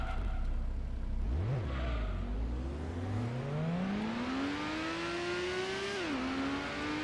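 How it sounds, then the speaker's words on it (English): Toyota Supra race cars roar through a race in the video game Gran Turismo, one engine revving up steadily through the gears with a sharp downshift dip, loud and close. "There goes the other Supra."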